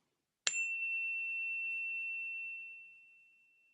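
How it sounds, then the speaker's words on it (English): Meditation bell struck once, a clear bright ring with a sharp strike that sustains as a steady tone and slowly fades over several seconds, alone in a quiet room. "on the sound of this bell"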